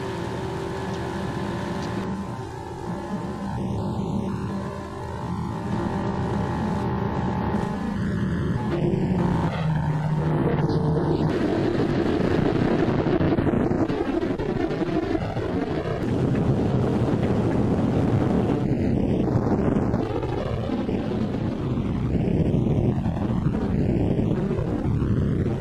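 A WW2 Martin B-26 bomber's engine cranks and catches, then settles into a loud, steady roar with gusty wind buffeting the microphone.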